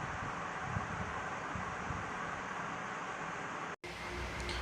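A 12V BLDC solar ceiling fan runs at high speed, producing a loud, steady rush of air and hum close to the microphone, with a brief dropout near the end.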